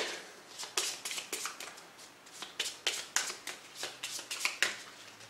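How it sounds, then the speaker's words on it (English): A Pathfinder Adventure Card Game deck being shuffled by hand, a quick run of crisp riffling card bursts, close and clear, with no talk. "This gets shuffled back into his deck."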